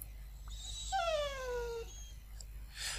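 A dog in the video game Journey of a Roach gives a short whimpering, whining yelp that slides downward, fairly close, over a low steady background hum.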